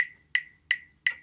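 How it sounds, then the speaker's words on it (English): Four crisp, evenly spaced metronome clicks about a third of a second apart, close and clean against near silence. "So when we put this metronome on,"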